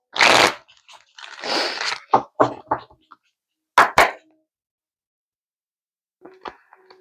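Several quick bursts of tarot cards being shuffled, crisp riffling clatters separated by short pauses, then a few faint taps near the end.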